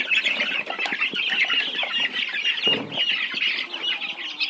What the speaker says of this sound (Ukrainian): Принесла курчаткам таку крупу відварену